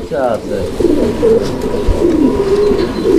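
American Lokkha fancy pigeons in a pair cooing close by, with soft rolling coos repeating steadily through the whole stretch.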